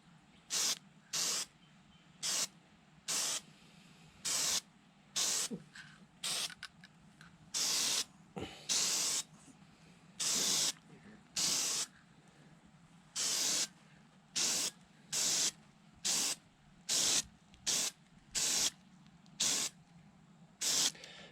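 Aerosol spray applied in short light coats over water slide decals on a scale missile for a Freewing MiG-29 model, about twenty separate hissing bursts in a steady rhythm with brief pauses between, close and fairly loud.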